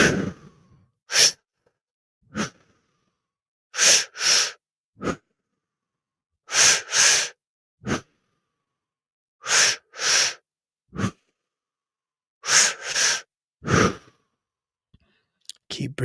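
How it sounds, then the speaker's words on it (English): Pranayama breathing during a guided self-improvement practice: a series of deep, airy inhales and exhales, close and clear, with paired breaths separated by quiet pauses. "We'll take in a few more pranayama breaths."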